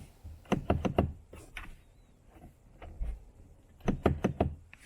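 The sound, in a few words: locked car door handle being pulled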